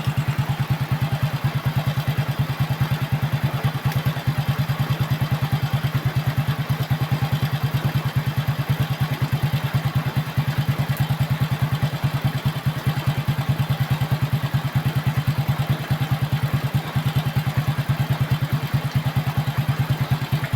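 A Honda XRM motorcycle engine running after a repair, a loud steady close idle with a fast even putter and light mechanical clatter throughout, no talk.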